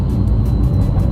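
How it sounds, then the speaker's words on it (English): A Porsche 911 Carrera 2025 with its optional sport exhaust engaged hums at idle, a steady, close, low engine drone with no talking. "The Sport exhaust, push."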